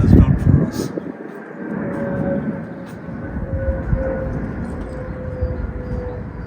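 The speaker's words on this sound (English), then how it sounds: "Excuse the planes, the wind is blowing from the east, so the planes are taking off from Gatwick." Jet airliners climbing out after takeoff from Gatwick airport on an easterly wind, a steady distant low roar rumbling beneath a spring garden walk, with a person talking over it.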